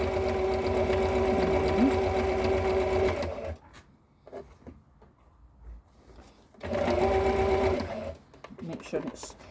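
A sewing machine runs in two steady, rapid mechanical bursts as it stitches over a side seam on a Regency reticule, with a quiet pause between the runs and a voice talking throughout.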